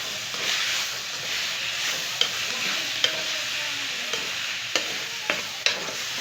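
Tomatoes stirred into potatoes and spinach frying in a pan for aloo palak sabzi: a steady, close sizzle and hiss with soft scraping strokes and a few sharp knocks of the spoon against the pan.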